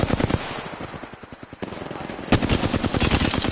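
Rapid automatic gunfire in a shooter video game, close and loud, with a sustained burst, a short lull, then another dense stream of rapid shots.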